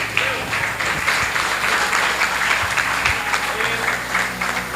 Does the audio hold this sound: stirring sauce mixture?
no